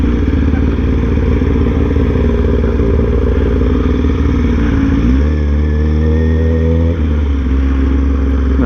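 A motorcycle idles and then pulls off beneath a highway bridge, its engine loud and close, with a low steady rumble that shifts in pitch about five seconds in as it moves and settles.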